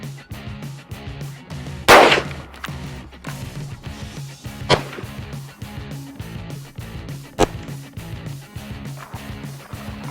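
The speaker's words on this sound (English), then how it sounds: "we're gonna shoot in the lower half of the target and give it a see what it does" Rifle shots fired with 55-grain brass hollow-point rounds into a bulletproof backpack target during live-fire testing: three loud, sharp cracks spaced a few seconds apart over steady background noise.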